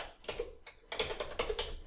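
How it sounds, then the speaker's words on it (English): Rapid, uneven clatter of keys on a computer keyboard as a username and password are entered, close and fairly loud with short bursts and brief pauses, no voices. "Then I'm typing in now."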